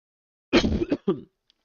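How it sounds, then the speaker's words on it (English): A single harsh cough breaks out, followed by a shorter second burst, close and alone in otherwise silence. "sorry for coughing"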